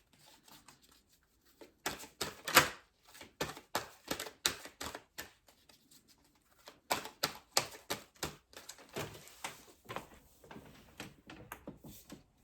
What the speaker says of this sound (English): throwing the cards on the floor here